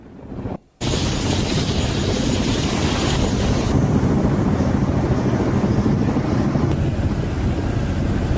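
Kamov Ka-52 Alligator Russian attack helicopter flying at night, a loud, steady, broadband engine and rotor roar that cuts in abruptly after a brief gap and continues unbroken, near and heavy with wind-like noise.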